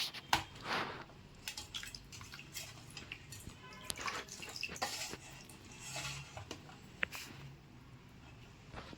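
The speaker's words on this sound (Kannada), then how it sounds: "ಚೆನ್ನಾಗಿ 1-3 ಸಲ 4 ಸಲ ತೊಳ್ಕೊಂಡ್ಮೇಲೆ ನೀಟಾಗಿ ನೀರೆಲ್ಲ ಹಿಂಡ್ಬಿಡ್ಬೇಕು." Freshly washed spinach is squeezed by hand to wring out the water, giving soft irregular drips and splashes with light wet clicks, close and fairly quiet, with no talk.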